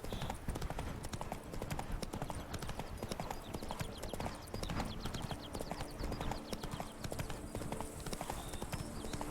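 Roach the horse galloping in Witcher 3, with rapid rhythmic hoofbeats drumming continuously and close for the whole stretch, alongside a dense game soundtrack and a faint voice in the background.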